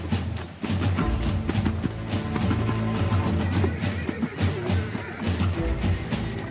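Wild Australian brumbies neigh and whinny while hooves clip-clop steadily on mountain ground, several horses close by with loud, overlapping calls throughout.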